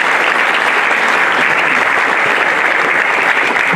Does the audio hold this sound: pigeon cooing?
no